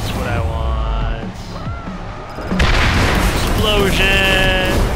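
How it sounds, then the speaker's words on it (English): A loud demolition explosion in the ScreamRide video game sets off a burst of crashing debris and rumble that fills the second half, with a softer game sound beforehand. "Explosion!"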